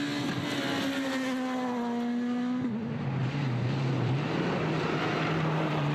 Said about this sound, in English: And I do still love the sound of an S2000 car.